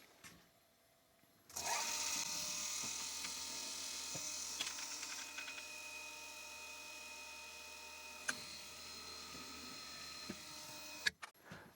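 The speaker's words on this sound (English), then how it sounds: "let's go ahead and get these holes drilled" Drill press boring holes through the cap of a connecting rod for a PM Research PM1 steam engine with a number 38 drill; a steady motor whine starts after a short quiet, runs at an even level with a few small clicks, then stops.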